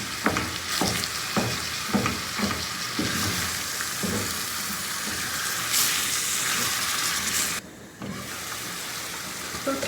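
Food fries steadily in a pan with a continuous close sizzle, broken by a series of stirring scrapes early on and a brief dip in the hiss near the end; no one speaks.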